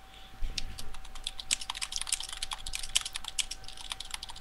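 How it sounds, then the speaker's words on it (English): Rapid clicking of keys on a computer keyboard, a steady stream of fast, close, crisp taps for several seconds with uneven rhythm and no talking. "sorry for typing it."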